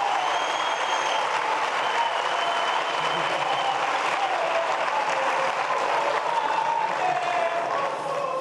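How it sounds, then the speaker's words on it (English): A full audience applauds at a formal event, a continuous wash of clapping that holds steady and loud for the whole stretch, with a faint tonal hum underneath. "Another round of applause"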